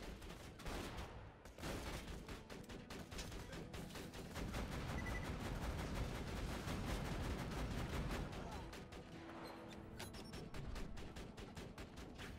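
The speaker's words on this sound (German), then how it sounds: "Geht nichts über ein Geschütz!" Turret gunfire in Borderlands 2: a dense, continuous rattle of rapid automatic shots that keeps going with barely a pause, loud and close, with a brief swell of heavier fire midway.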